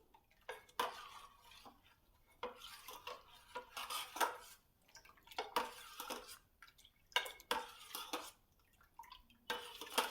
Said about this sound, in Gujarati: સારી રીતે બધું મિક્સ કરી લેશું।